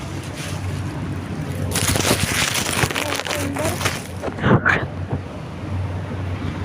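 Exhaust fans in an onion storage structure blow air in a steady, close broadband whoosh, while someone talks over the noise.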